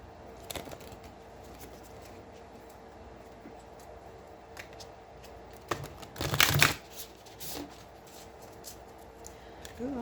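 Oracle cards are shuffled by hand in short, soft riffling bursts with one louder flurry midway, close and quiet against a faint room background, with no talking.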